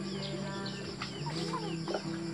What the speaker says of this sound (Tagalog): Ito yung mga laga nilang manok, itik.